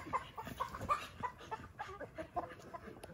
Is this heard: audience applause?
no